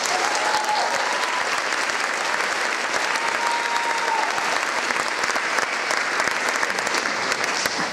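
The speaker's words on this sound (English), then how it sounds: "Let's give our accompanist Evan Marchenko another round of applause." A large audience at a school chorus concert claps steadily and loudly, a dense continuous wash of applause from many hands with no pause.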